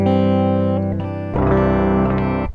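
An electric guitar plays sustained tones through a stereo effects pedal that sends different tones to left and right, giving a loud, dense, processed sound. The tone changes partway through.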